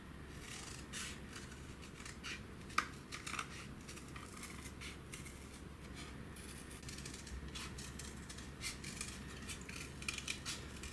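Scissors snip through paper circles in quick irregular cuts, light crisp clicks and rustles close by, quiet against a faint low room hum, with no talking.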